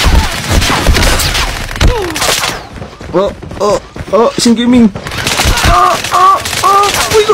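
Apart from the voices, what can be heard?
gunfire in video game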